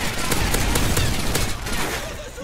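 Dense rapid gunfire in a first-person shooter game, a loud continuous volley of shots packed closely together over a couple of seconds, fading slightly at the end.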